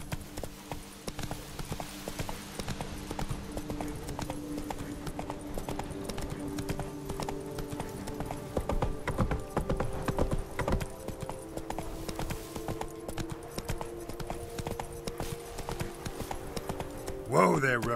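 Roach, a horse in The Witcher 3: Blood and Wine, clip-clops steadily along in a rhythmic trot, the hoofbeats clear and close over a low ambient game score.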